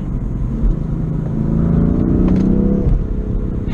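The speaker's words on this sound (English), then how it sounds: "We'll do a quick downshift, really easy to rev match." A 2015 manual turbocharged BMW M3 blips its engine during a rev-matched downshift, a loud, close rumble that rises and settles.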